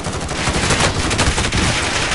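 Gunfire in a shooter video game, heard as dense, loud, rapid automatic bursts crackling continuously up close with no clear pauses.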